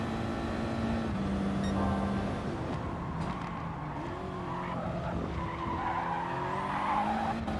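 Race car in the GT Sport video game at Le Mans braking hard into a corner, with a sustained tire skid and squeal over a steady engine drone, loud and continuous throughout.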